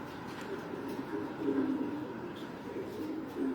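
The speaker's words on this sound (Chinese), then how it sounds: "外面有鸽子" Racing pigeons coo softly in a low, continuous murmur, with a faint steady background and no talk.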